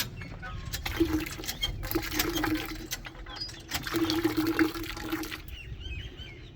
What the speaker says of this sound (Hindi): खैर बाल्टी आधी हमने भर ली है, मज़ीद इसे फुल कर लेंगे।